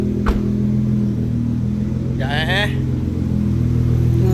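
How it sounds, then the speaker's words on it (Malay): A car engine idles with a steady low rumble as the car is moved forward in a showroom that has a GT-R, FL5 and CLA45S in stock. A voice speaks briefly over the engine. "tolong bawa kereta ni pergi depan sikit bang"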